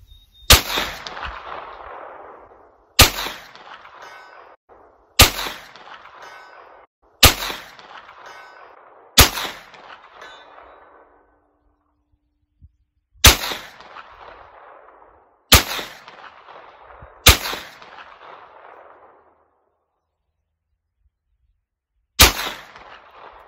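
Ruger PC Charger pistol fired at a 200-yard target, nine sharp loud shots spaced a few seconds apart outdoors, each followed by a long fading echo.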